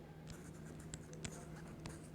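A pen writing on a paper form, filling in an amount in words: quiet, continuous scratching strokes with small taps, close and faint, no talking.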